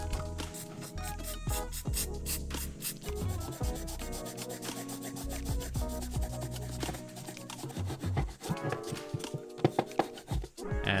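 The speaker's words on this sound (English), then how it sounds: "So I'm just going to be using that rust converter on the clamp part as it is a bit rusty." A rusty clamp on a Retro GT 26-inch bike is scrubbed with rust converter in quick, close, rhythmic rubbing strokes that stay steady throughout, then turn more uneven at the end.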